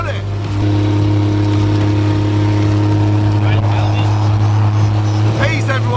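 A 1936 rat rod cruises along a bumpy UK motorway, its engine a steady, loud, low drone with rumbling road noise that holds throughout and a voice coming through at moments.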